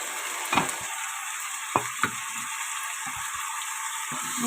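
Marinated prawns for a prawn iguru hit hot oil in a pan, a quiet steady sizzle broken by a few sharp scraping knocks of a spatula against the metal, close by and with no one talking.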